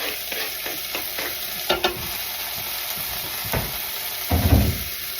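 Chopped tomato hits a hot frying pan for veggie noodles, a continuous close sizzle with scraping stirs and a louder burst of frying near the end, no talking.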